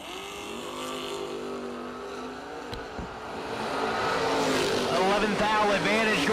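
An Oldsmobile drag racing car on the strip idles with a droning engine note, then launches and roars louder with rising revs, while a commentator talks over it.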